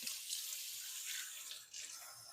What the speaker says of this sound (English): Let me rinse my hand off real quick.